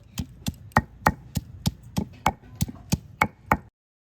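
About a dozen evenly spaced, crisp thuds ring out alone as washed flowers are pounded and crushed to draw out their juice, the strikes close and steady in rhythm.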